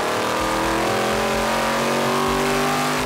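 A Corvette engine revs hard in a street-circuit racing setting, close and loud, a rich harmonic roar climbing and easing continuously with no talk over it.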